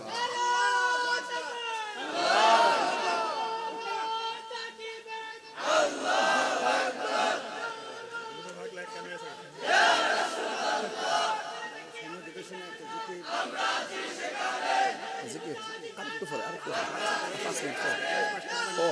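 Large crowd shouting Allahu Akbar in unison as the takbir response at an Islamic sermon gathering, loud massed voices in repeated surging waves, close and dense, answered after a preacher's call.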